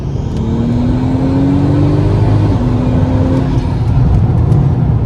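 A turbocharged MK5 Volkswagen Golf R32 engine, recently fixed for fuel starvation, pulls hard under acceleration into boost: a loud, steady rising roar from inside the car that runs unbroken and doesn't cut out.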